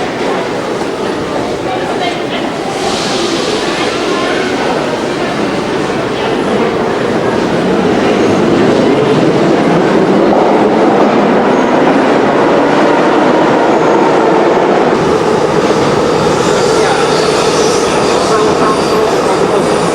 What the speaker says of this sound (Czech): To je chaos ruský metro.